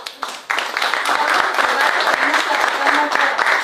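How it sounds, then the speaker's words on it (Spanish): Audience applause after a talk on the Interoceanic Corridor: a burst of many hands clapping that swells within half a second into a loud, dense, sustained patter, with a few voices underneath. "Un aplauso, por favor."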